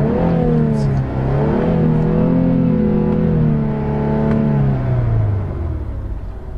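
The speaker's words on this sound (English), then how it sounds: "I could just accelerate real quick, and you guys could already just see the boost." An Infiniti Q60 with a JB4 tune accelerates hard, its engine revving with a loud, close, rising tone that swells and holds, then eases off near the end.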